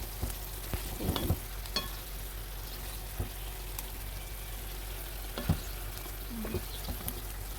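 Eggplant and fishballs frying in a pan for binagoongang talong, with a steady low sizzle, scattered stirring scrapes and soft taps against the pan.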